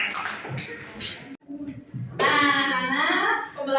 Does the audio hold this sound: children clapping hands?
yes